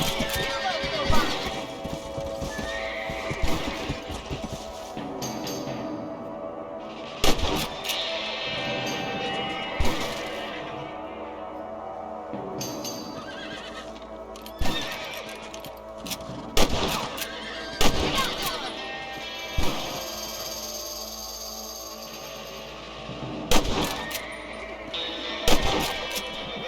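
Gunfire in the Western video game Red Dead Redemption: sharp, loud single shots at irregular intervals, roughly a dozen spread across the scene, with voices talking between and around them and some ambient game sound underneath.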